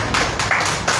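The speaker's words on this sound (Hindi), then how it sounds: "जोरदार तालियां इनके लिए" A short burst of audience applause at a Hindi poetry gathering, several quick pulses of clapping close by with no talking.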